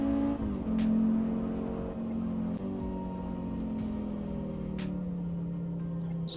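Race car engine in the Assetto Corsa driving game, a steady droning hum that shifts pitch gently as the car accelerates and eases, continuous and fairly loud with no talking.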